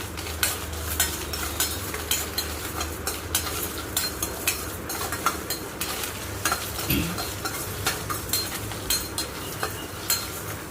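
Whole coriander, cumin, pepper, fennel, cardamom, dried red chillies, cinnamon and cloves dry-roasting in a pan, giving a steady rustling scrape with regular light clinks of a spoon against the metal, close and moderately loud, no talking.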